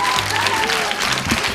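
An audience at an Italian party entertainment show clapping, a dense continuous burst of applause filling the short moment, loud and close.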